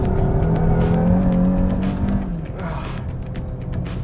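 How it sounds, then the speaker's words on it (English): A car on a race track accelerates hard through a corner in second gear, a loud sustained engine drone with a rising pitch and rapid rhythmic pulses close up, dipping briefly midway before pulling again. "let's see what happens when I plant my foot in second gear around this corner"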